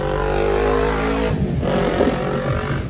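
A small 250cc vehicle circles the block nearby, its engine giving a loud steady droning hum that shifts pitch and roughens as it turns and moves off.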